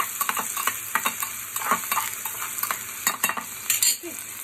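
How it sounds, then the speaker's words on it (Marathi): Onions and green chillies frying in a pan, a steady bright sizzle with frequent scraping and clinking stirs of a utensil against the pan, close with no talking. "मग कांदे ॲड करा आणि हिरवी मिरची, आता छान त्याच्यामध्ये मला फ्राय करून घ्यायला करायची"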